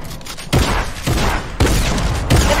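Rapid bursts of gunfire in the video game Fortnite, aimed at the player, with four loud, close volleys of shots arriving about half a second apart and no speech over them.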